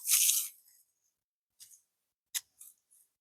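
Dead bleeding heart stems in a shade garden being cut to the ground, a dry rustling tear at the start followed by a few short, crisp snips and crunches, close and fairly quiet with gaps of silence between.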